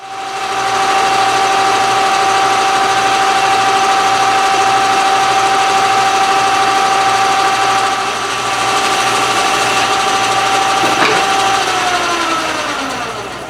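South Bend 11 metal lathe running steadily while machining a slotted-head, low-profile shoulder bolt, a loud continuous motor hum with a high whine and faint cutting chatter, no talking.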